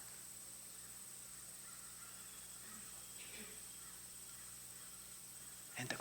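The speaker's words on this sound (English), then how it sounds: "And the calling birds" Crows cawing outdoors among other calling birds, faint and distant against a steady background hiss with a continuous high insect-like whine, a few brief calls rising midway and a sharper noise at the very end.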